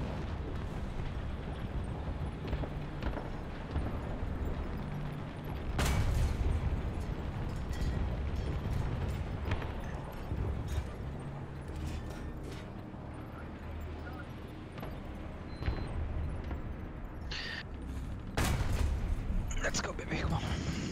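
Repeated gunshots and explosive booms in a shooter video game, with sharp bursts scattered over a rumbling background, some loud and close and others softer, with a voice talking at times.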